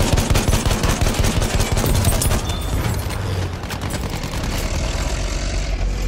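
Enemy machine gun fire roars in the Battlefield video game as dense, continuous rapid bursts, loud and close throughout, with a low rumble underneath.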